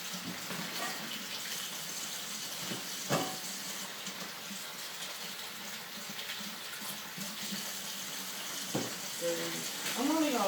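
Tap water runs steadily into a kitchen sink while vegetables are washed under it, a continuous close hiss and splash with a few brief clatters and surges.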